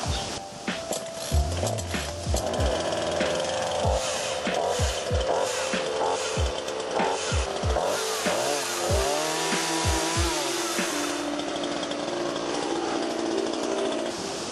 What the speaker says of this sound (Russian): Заводим бензопилу.